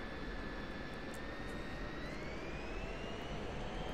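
F-16C Viper jet in the DCS flight simulator, a steady loud roar of its engine spooling up for takeoff with a rising whine, continuous and close, with no talking.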